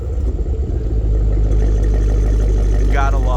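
2023 Cadillac Escalade-V engine starting up, a cranking clatter followed by a deep, loud, steady rumbling idle heard up close, with a brief voice near the end.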